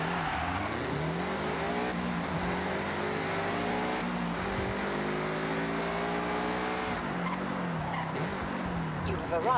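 A Subaru Impreza racing in Forza Horizon 6, its engine droning steadily with rising and falling revs through gear changes and a brief tire skid, while a person talks over it throughout.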